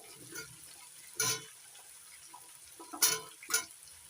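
Chunks of pumpkin and bottle gourd tumble into a pot of softened tomatoes for sambar, giving three short soft splashy thuds with a light sizzle, fairly close and moderately loud over quiet kitchen background.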